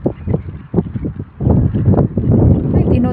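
Steady wind rushes and buffets across the microphone in a tulip field in the Netherlands, loud and rumbling, growing stronger in the second half.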